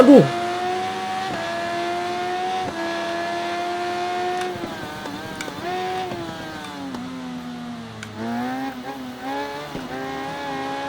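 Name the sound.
motorcycle engine revving, video game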